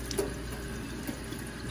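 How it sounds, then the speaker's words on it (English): A paintbrush is rinsed in a container of clean water, giving a steady, close wash of running, sloshing liquid with a couple of small splashes and no talking. "I'm gonna rinse my brush really good, making sure it has no paint."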